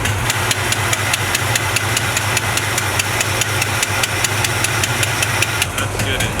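A 1970 Chevrolet C20 truck engine idles steadily up close with a regular ticking, knocking rhythm, while people talk over it.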